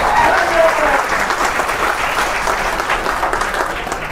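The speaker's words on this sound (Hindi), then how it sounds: "जबरदस्त तालियां।" A seminar audience in Goa bursts into loud, dense clapping from the start, staying steady and full before easing slightly toward the end.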